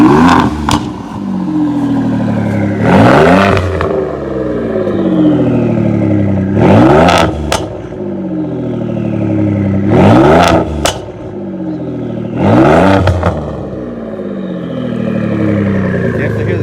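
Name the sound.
turbocharged Ford EcoBoost engine revving through exhaust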